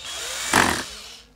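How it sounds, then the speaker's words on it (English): A screwdriver drill driving a screw into a Bluetooth speaker housing gives a single short whir of about a quarter second, close and moderately loud, amid quiet room sound. "bring my screwdriver / drill bit."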